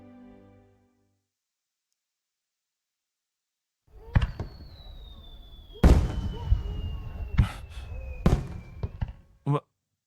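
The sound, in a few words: fireworks at a festival in a visual novel video game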